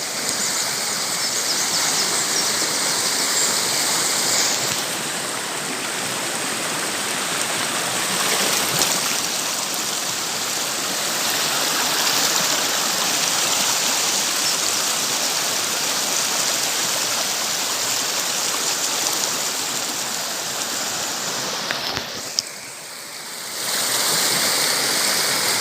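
A waterfall roars in a steady, dense rush of falling water, loud and unbroken throughout, with only a brief dip in intensity near the end.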